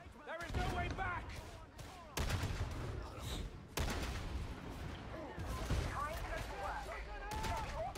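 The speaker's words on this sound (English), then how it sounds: "Grenade prime! We're throwing!" Grenade thrown in Warhammer 40,000: Darktide during co-op combat, heavy booming blasts and crackling gunfire in dense overlapping bursts, loud and chaotic, with voices speaking throughout.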